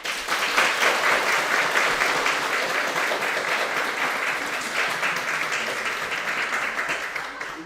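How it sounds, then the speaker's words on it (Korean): Sustained applause from a church congregation greeting children, a dense wash of clapping that stays loud and steady throughout, with a few voices mixed in. "힘찬 사랑의 박수 한번 주십시오"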